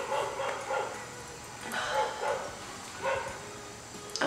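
Dogs bark nearby, heard from inside a home garage, in several separate bursts of yips and barks over a steady background hum.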